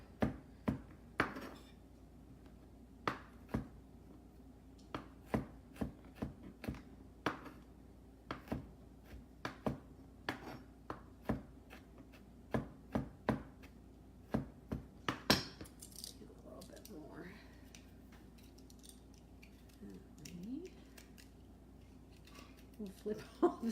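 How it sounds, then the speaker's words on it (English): A knife slices and chops fresh ginger on a board, a series of sharp, close taps in an uneven rhythm with pauses, becoming busier and more scattered toward the end, with some voices in the background. "I'm just gonna kind of slice it, and then we'll chop it up a little bit"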